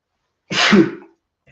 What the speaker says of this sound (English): Excuse me there, a little bit of a sneeze.